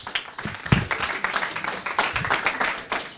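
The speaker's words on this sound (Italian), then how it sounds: "E un bel applauso al direttore sportivo Nicola Montanari." A crowd applauds steadily, a dense patter of many hands clapping together for a few seconds, with a faint voice underneath.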